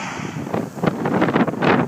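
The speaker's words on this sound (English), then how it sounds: "It's a little bit windy here out in the field." Blustery wind buffets the microphone outdoors in a spelt field, a steady rushing roar with gusty swells and no voices.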